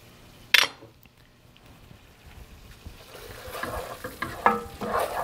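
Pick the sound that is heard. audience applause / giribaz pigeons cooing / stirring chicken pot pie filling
stirring chicken pot pie filling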